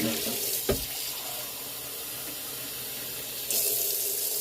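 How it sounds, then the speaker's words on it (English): Hot water runs steadily from a kitchen tap into a pan, a close, even rushing hiss with a brief knock early on and a slight rise in flow toward the end. "and I'm running that water hot."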